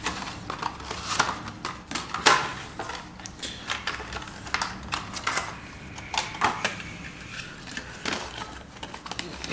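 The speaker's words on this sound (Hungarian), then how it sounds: "Kiveszem a csomagolásból a tokot. Az annyira nem egyszerű, mert eléggé jól bebugyolálta itt papírba és műanyagba" A Krusell FlipCover Boden phone case for an Xperia M2 being pulled from paper and plastic packaging, with crinkling, tearing and rustling in irregular bursts, close to the microphone and with a voice talking in places.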